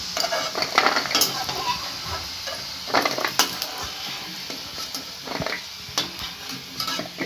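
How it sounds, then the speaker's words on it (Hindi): Cashew namak pare fry in hot oil while a utensil stirs them, giving a steady close sizzle broken by repeated metallic scrapes and clinks against the pan. "तो देखें ये अच्छी तरीके से फ्राई हो चुके हैं।"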